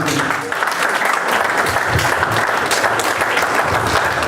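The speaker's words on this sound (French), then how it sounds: "Encore une acclamation." Audience applause at an evening celebration, a dense, loud, steady wash of clapping lasting about four seconds, with a slight dip near the start and some crowd voices mixed in.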